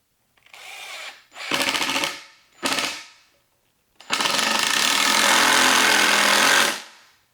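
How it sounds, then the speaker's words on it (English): A power drill bores down into an old garage cabinet being turned into a rolling workbench, loud and close in three bursts: two short whirring runs, a brief pause, then one long sustained drilling pass that winds down. "and I'm going to drill down this time."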